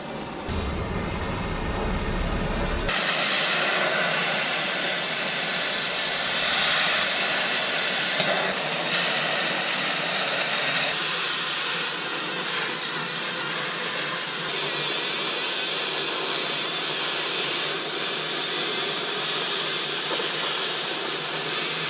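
A cutting torch hisses loudly and continuously, its gas leaking around the cone, in a steady broadband rush with shifts in tone partway through, heard alone without talk.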